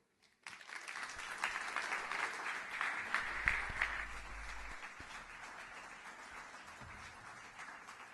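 Applause from an evening audience for a drummer and drum-book author, rising suddenly after a brief silence into a full, steady clapping that slowly thins out toward the end.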